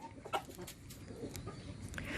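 A young fighting rooster clucks softly in short, scattered calls over a steady, faint outdoor background.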